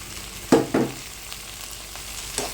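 Three small tomatoes drop into chicken curry frying in a pan, giving two quick soft plops followed by a low, steady sizzle, with a faint scrape near the end and no talking.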